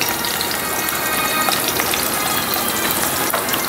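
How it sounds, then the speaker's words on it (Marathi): Dried Bombay duck fish fries in a pan over the flame for a Goan pickle, giving a loud, steady, close sizzle with constant crackling that runs without a break. "सो हाय फ्लेमान मातशें तुमी हे फ्राय कराय आनी काडाय."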